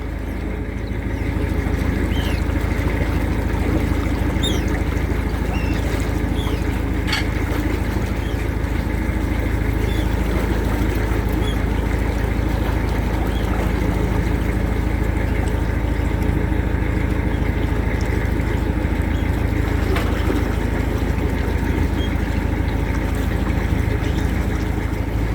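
A boat's steady low engine drone runs throughout, close and constant, with a faint wash of water and occasional small knocks.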